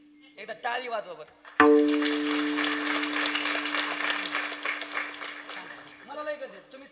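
Partway through a devotional kirtan, an audience bursts into sustained group clapping. It starts suddenly after a few spoken words and runs for several seconds before the speaker's voice returns at the end.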